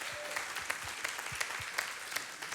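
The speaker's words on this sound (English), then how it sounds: "So would you give them a round of applause for my parents?" Audience applause at a church event, a steady wash of clapping from a crowd sustained throughout with faint scattered accents, heard alone without talk.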